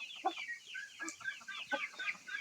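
A rooster calling to a hen in a farmyard gives a run of quick, close clucks and low gurgling calls in short bursts, with no talking over it.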